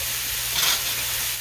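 Cabbage meatloaf mixture sizzling in a pan on medium heat as it is stirred, a steady frying hiss with a brief scraping swell of the spoon in the middle.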